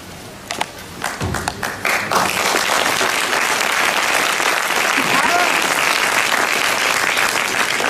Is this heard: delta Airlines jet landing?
no